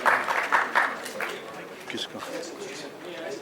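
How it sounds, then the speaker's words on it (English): At a film trailer launch event, the audience gives a round of applause welcoming a creative producer. A dense burst of clapping fades within about a second and gives way to someone speaking. "Please welcome him with a round of applause."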